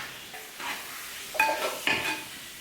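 Kerala-style chicken biryani masala with garam masala sautés in a pan with a soft, low sizzle. A spoon scrapes and stirs in a few distinct, clinking strokes.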